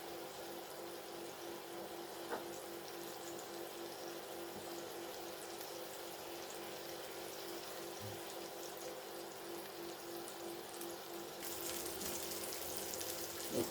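Chicken pieces sizzle steadily in a pan for a garlic chicken rice bake, a continuous hissing fry at moderate level with a faint clink near the start and the sizzle growing a little brighter toward the end.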